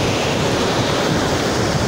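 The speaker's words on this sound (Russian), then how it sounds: "что каждому нравится такой шикарный прибой, но не каждый может его узреть" Ocean surf breaks hard on a windy day, a loud, continuous roar of crashing waves with wind buffeting the microphone throughout, with no voices.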